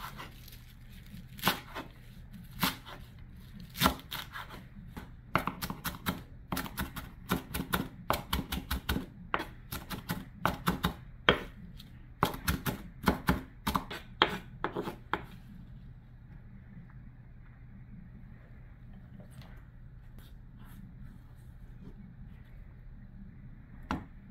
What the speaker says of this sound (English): this is the cilantro. I'm just going to roughly chop this up